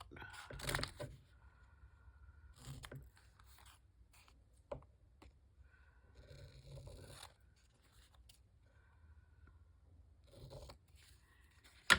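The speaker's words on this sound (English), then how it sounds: "Cut this out." Paper cut out with scissors for a fall journal, a few short bursts of crisp snipping separated by near silence, close and quiet.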